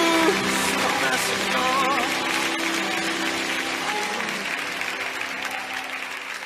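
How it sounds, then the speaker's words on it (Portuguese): A church congregation applauds steadily throughout, a dense wash of clapping with faint singing or voices underneath, gradually tapering in loudness toward the end. "Aplauda o Rei dos Reis."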